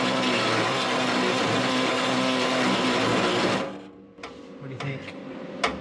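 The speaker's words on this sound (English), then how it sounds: "No way, you need the grinder." An angle grinder whines steadily and loudly while cutting the rusty metal body of an International Scout II, then cuts out, leaving quieter clanks and a few sharp metallic taps.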